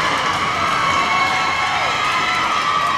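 A home crowd of students cheers steadily at a high school volleyball match between Poudre HS and Boulder HS in a gym, with loud sustained shouting and whooping that fills the hall without a break.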